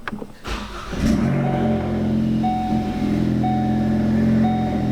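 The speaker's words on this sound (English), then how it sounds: "Let me go ahead and start the car." A Ford Focus ST fitted with a Cobb Accessport cranks briefly and fires up, settling into a loud, steady idle with a faint high whine, heard close and without talking.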